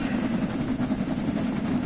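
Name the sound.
train approaching in Train Sim World 6 video game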